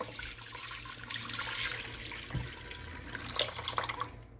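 Liquid sauce mixture poured from a pan into a crock pot for a slow cooker beef roast, a steady wet splashing and trickling stream that runs the whole time, fairly faint and close.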